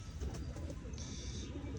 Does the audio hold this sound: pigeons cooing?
yes